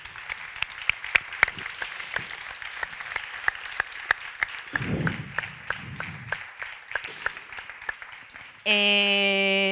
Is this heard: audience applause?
yes